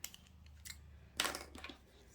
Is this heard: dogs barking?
no